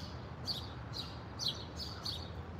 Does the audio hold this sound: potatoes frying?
no